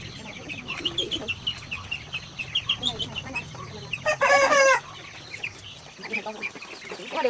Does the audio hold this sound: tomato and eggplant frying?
no